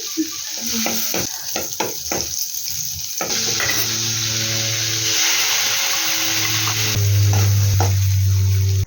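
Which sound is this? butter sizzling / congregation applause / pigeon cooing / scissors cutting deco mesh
butter sizzling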